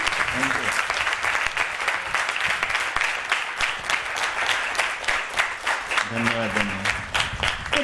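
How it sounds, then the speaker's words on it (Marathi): Sustained audience applause in a music event honouring a composer, dense clapping throughout with a voice speaking over it in places. "जोरदार टाळ्या झाल्या पाहिजेत"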